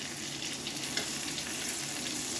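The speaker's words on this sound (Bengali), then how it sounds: "পটলটা আমাদের প্রায় ভাজা হয়ে এসছে।" Pointed gourd (potol) slices fry in a pan, a steady close sizzle with soft crackles that holds level throughout, no voices.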